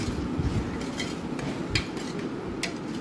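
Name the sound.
stirring potato curry with tomato and onion in a pan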